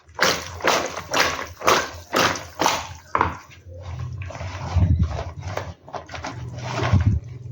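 Green chillies being mixed by hand in buttermilk: a run of regular soft thumps and taps gives way to wetter, squelching churning, close and without speech.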